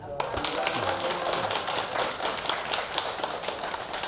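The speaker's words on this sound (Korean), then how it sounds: "박수 한번 치세요." Dense, steady applause from an audience at a Buddhist Dharma service at Donghaesa temple on Buddha's Birthday, continuous rapid claps filling the room from start to end.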